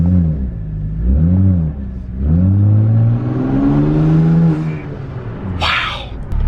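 A BMW 535i fitted with catless downpipes revs hard, its engine note climbing and falling in several loud, close sweeps before a brief hiss at the end.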